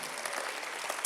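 Brief burst of audience applause in a church service hall, steady clapping from a crowd heard at moderate distance.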